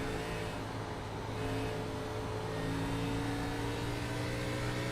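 A race car engine drones steadily in an oval racing video game at Iowa Speedway, a continuous mid-pitched whir that swells slightly as the car spins out, with no voices.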